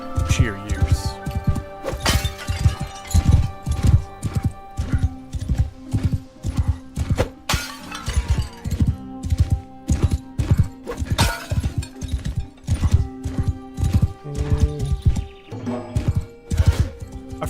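Galloping horse hooves in Mount and Blade: Bannerlord, a steady rhythmic clip-clop of rapid thuds running throughout, with someone talking over it at close range.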